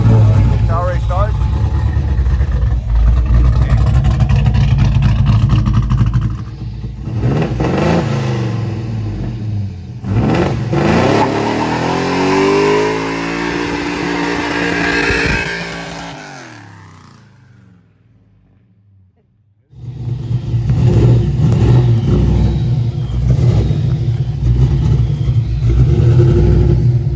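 A 1968 Mercury Cougar engine, fitted with Calvert Racing Caltracs suspension, runs loud and close with steady rumbling, climbs through rising revs, fades almost to silence, then returns to a strong idle.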